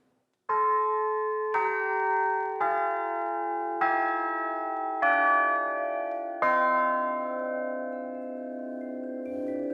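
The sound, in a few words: six brand new church bells rung in a foundry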